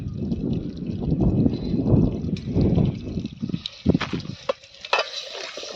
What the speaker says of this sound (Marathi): हे सगळं खोबरा लसूण सगळं तेलात तळून घ्यायचंय